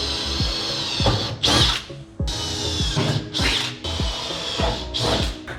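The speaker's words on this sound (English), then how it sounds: "we can now drill those out and then nutsert in" A power drill bores pilot holes for nutserts while a Front Runner CargoBed Slide is being fitted, a loud close whine in repeated bursts with short pauses and rising pitch as each hole is drilled, with no talking.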